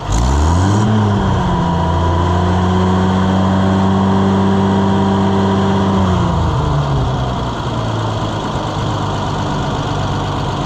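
An Oliver 770 tractor engine running with no choke, revving up then settling into a loud, steady close-up drone that lowers in pitch partway through and keeps idling.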